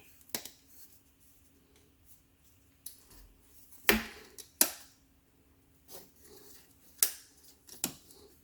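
Plastic tabs on a Lasko 42-inch RST200 tower fan snap and click into place under a ridge, a handful of sharp, separate clicks spaced irregularly, close and fairly loud against a quiet room.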